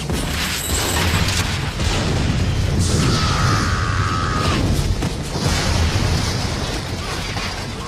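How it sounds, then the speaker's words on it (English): Explosion destroying a pawn shop in the film The Crow, a loud sustained roaring blast with dense low rumble and crackling debris lasting several seconds, no clear voices over it. "Because of the explosion"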